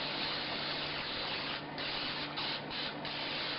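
A short hiss of cooking spray into a quiche pan, then a quick series of three brief spritzes, faint against a steady background hum.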